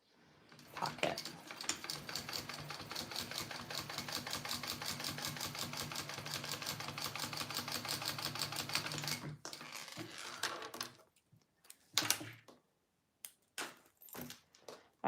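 Sewing machine stitching one more row along the zipper pocket of a Serendipity fabric wallet, a steady rapid run of needle strokes for about eight seconds, then stopping, followed by a few scattered handling clicks and taps.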